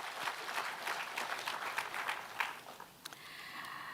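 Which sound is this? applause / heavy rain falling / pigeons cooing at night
applause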